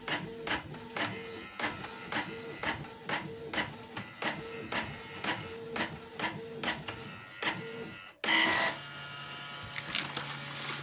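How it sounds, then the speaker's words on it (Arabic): A Canon PIXMA inkjet printer, MG2500-series type, prints with steady rhythmic mechanical clacks and whirs of the paper feed and print head, about twice a second, ending in a louder continuous whirring burst near the close. "كما تلاحظون، عملية الطباعة تمت."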